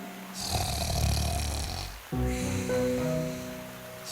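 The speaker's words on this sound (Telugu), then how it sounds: "ఎంత గట్టిగా గురక పెడుతోందంటే చెట్టు ఆకులు కూడా కదులుతున్నాయి." Loud, deep snoring from a wolf rumbles close by, one long rasping snore followed by another drawn-out snorting breath.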